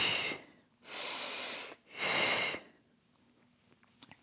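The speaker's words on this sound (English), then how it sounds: "When things get tough, I want you to breathe louder." Loud, forceful breaths during a Pilates core circuit workout: two long rushing exhalations about a second each, close to the ear, followed by quiet with faint soft clicks and shuffling.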